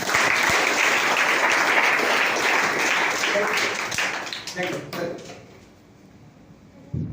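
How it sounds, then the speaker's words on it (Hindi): An audience gives loud, dense applause at a hostel inauguration at an army academy. The clapping rings out strongly for about four seconds, then thins into scattered claps and fades to near quiet, with voices around it. "सो दैट करण के लिए एक जोरदार ताली"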